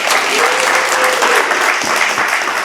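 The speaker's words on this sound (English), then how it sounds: "All right, round of applause," Audience applause after a talk with entrepreneur Philip Wang of Wong Fu Productions, a dense, steady wash of clapping that stays loud throughout with a faint voice underneath.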